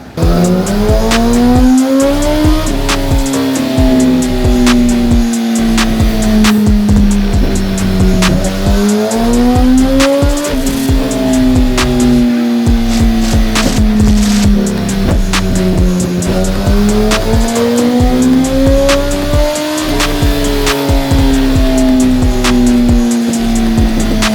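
A 2008 Yamaha R1 sport bike engine on a dyno revs loud and continuously, its pitch climbing and settling in repeated sweeping pulls across several runs with no talking.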